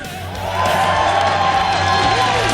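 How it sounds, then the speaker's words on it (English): Live audience at a 2012 GSL Season 5 StarCraft 2 tournament cheers and whoops in a loud, sustained roar that swells after the first half second and holds steady to the end. "Anybody here cheering for Sniper?"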